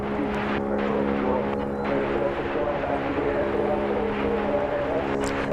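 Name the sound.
propeller plane flying near DFW Airport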